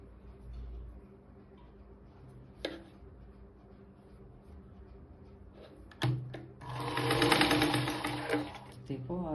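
A sewing machine stitches around the armhole of a blouse indoors, humming softly at first and then breaking into a loud, steady, fast whirring run in the final seconds, with faint voices in the background.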